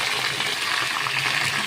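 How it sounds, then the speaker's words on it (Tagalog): Hot water pours into a cooking pot while machboos chicken is made, a steady, close rushing splash that holds at an even level throughout. "Tapos maglalagay tayo ng mainit na tubig."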